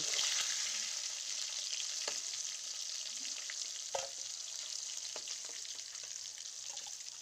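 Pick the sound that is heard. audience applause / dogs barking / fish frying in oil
fish frying in oil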